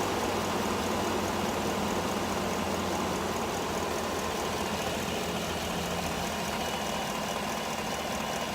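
Idling GMC Sierra pickup engine fitted with a cold air intake, running steadily with a continuous low rumble and faint rattling vibration, heard alone at a moderate, even level.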